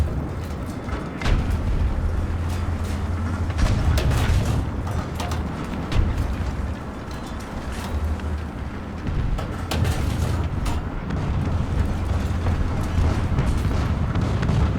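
Tank cannon fire in War Thunder from a French Char D2 medium tank: repeated heavy booms land every few seconds over a continuous engine rumble and battle noise, loud and close.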